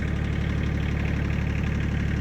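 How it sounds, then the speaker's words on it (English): Diesel engine of a 1967 International Fleetstar 2000 truck, a Detroit 671, idling on a cold morning with a steady, loud, even throb and no pauses. "I got the tractor warming up over there."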